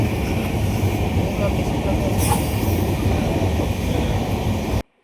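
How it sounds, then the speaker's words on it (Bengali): The Kanchankanya Express runs fast, heard from inside the train as a loud, steady roar of wheels and carriage rumble that continues without a break and cuts off abruptly at the end. "ট্রেনের গতি তখন বেশ জোরে কারণ আমাদের ট্রেন প্রায় আধ ঘন্টা মতো লেটে চলছিল"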